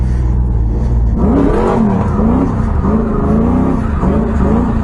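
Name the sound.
car engine revving during clutch kick drift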